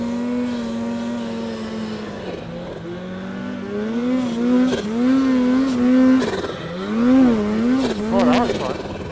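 A snowmobile engine revs and surges while riding through deep powder in the Silent Pass backcountry near Golden, British Columbia, its pitch rising and dipping over several throttle bursts, heard close and continuous.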